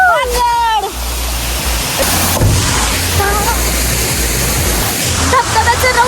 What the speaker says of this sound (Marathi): धबधब्याचं रौद्र रूप बघा तुम्ही